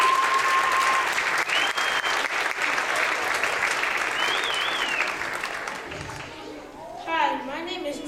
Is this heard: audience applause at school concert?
yes